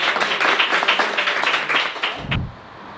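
Brief clapping from a small group of people, close and fairly quick, lasting about two seconds before a soft thump and quiet.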